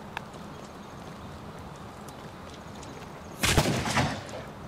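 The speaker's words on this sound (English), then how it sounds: "You waste too much ammo if you shoot that fast." A short burst of rapid automatic fire from an AK rifle in the video game Rust, fairly loud against a steady background hiss, lasting about a second.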